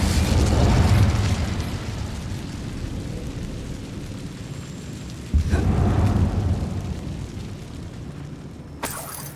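A booming, rumbling fire blast from the Incendio spell in Hogwarts Legacy, two heavy bursts a few seconds apart followed by crackling decay and a sharp pop near the end, loud and without talk.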